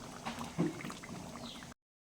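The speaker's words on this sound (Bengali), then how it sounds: "আমি এটা একটু সিদ্ধ করে নিচ্ছি" Palak paneer curry with butter bubbles and simmers in a pan, a steady close wet bubbling with a few louder pops, heard alone.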